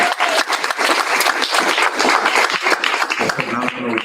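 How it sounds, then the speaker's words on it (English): An audience at a community gathering claps steadily and fairly close for about three seconds. Then the applause fades and a voice begins speaking. "We all need to be clapping for Dr. Douglas."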